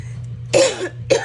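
Two sharp coughs from someone with a cold, the first longer and the second brief, close to the listener over a steady low mechanical hum of a washing machine.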